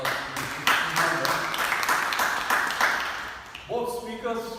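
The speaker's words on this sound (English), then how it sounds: "she also deserves a right round of applause" Audience applause at a Toastmasters club meeting, a room full of people clapping steadily and fairly loudly for several seconds, then a chime-like tone rings as the clapping fades.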